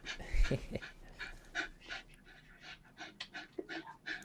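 A dog pants close by in quick, breathy rhythmic puffs, with soft whimpers and a louder snuffle near the start, indoors.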